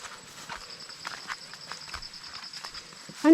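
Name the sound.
carabao (water buffalo) walking, hoof steps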